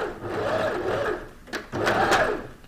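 A sewing machine stitches a dress seam close to the fabric edge, its motor humming in a steady rhythmic whir, pausing briefly with a couple of sharp clicks before running again at close range.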